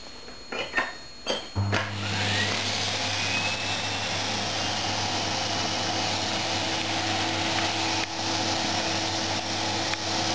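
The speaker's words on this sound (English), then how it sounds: "So basically, you attach a vacuum here" A few light knocks, then a vacuum cleaner attached to a 3D-printed vacuum seal switches on and runs with a steady, loud whirring hum and a high whine.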